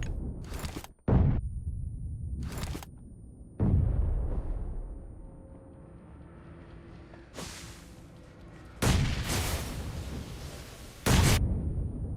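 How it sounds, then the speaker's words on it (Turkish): Grenade and molotov explosions in a video game arrive as several loud, abrupt bursts separated by quiet stretches, with two quick blasts at the start and more spaced out later. "adam durmadan bomba molotof atıyordu"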